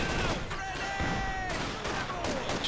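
An artillery barrage in Company of Heroes 2, a dense rumbling spread of distant blasts and crackling fire running continuously under tonal game sounds and a commentator's talk.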